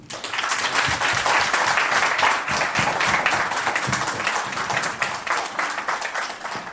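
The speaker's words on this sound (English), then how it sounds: "give a rousing last applause to His Excellency, Lawyer Ousainou Darboe" A crowd claps steadily and enthusiastically, a dense wash of applause that continues throughout without any pause.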